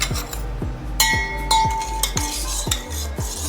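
A spoon stirs asafoetida into cooled oil in a metal pan for raw mango pickle, giving a steady run of near, bright clinks and scrapes against the pan, about two per second, with no talk.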